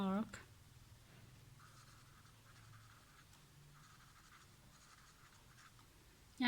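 Pen writing on paper during a geometry exercise, soft scratchy strokes in short bursts at close range, quiet and steady, with brief speech at the start and end.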